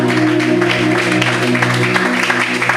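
A church congregation at a Sunday service claps and cheers in acclamation of Jesus Christ, sustained dense applause with crowd voices and a steady musical tone underneath.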